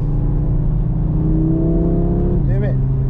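An Audi RS3 (8Y) accelerating hard on a damp race track on cold tyres, a loud close engine drone rising steadily in pitch before a quick gearshift dip and climb again.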